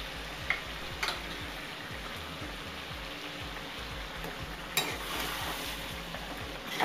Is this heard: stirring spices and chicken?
yes